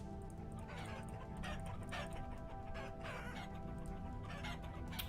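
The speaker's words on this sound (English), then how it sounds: "Let's go ahead and feed the chickens." Chickens cluck in the Vintage Story game, a continuous flock chatter of short clucks and calls at moderate distance, no talk.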